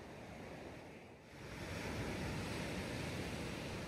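Ocean waves wash onto the black volcanic sand of Seixal Beach on Madeira's northern coast, a soft, continuous hiss of surf that swells slightly, faint and distant, with no voices.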